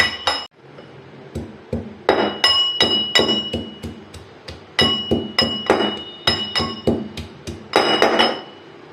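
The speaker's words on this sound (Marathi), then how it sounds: "मी इथे एक खलबत्ता घेतलेला आहे त्याच्यामध्ये पाच ते सहा लसणाच्या पाकळ्या आणि अर्धा इंच अद्रक घ्यायचं आहे" Five or six garlic cloves and half an inch of ginger are pounded in a stone mortar and pestle, giving loud, sharp, ringing strikes in an irregular rhythm, close by and with no talk.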